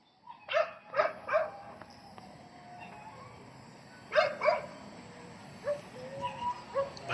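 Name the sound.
dogs barking at an impound area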